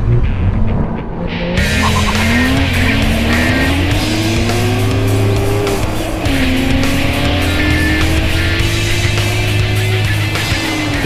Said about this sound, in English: Now it's time for a drag race.